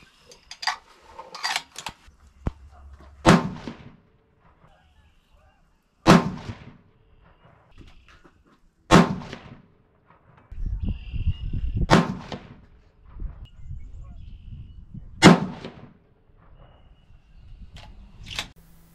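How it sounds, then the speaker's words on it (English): 6.5 PRC rifle fired at an outdoor range with handloaded StaBALL HD powder charges: five loud, sharp shots spaced a few seconds apart, each with a short rumbling echo, and no talking. "So I'm going to head to the range and fire off those 5-shot groups."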